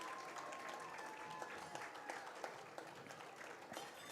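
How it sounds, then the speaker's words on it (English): Spectators at a high school football playoff game between Seiling and Thackerville stand and clap in the bleachers, a moderate, fairly distant patter of applause with scattered sharper claps. "there are all kinds of people standing up in the stands clapping."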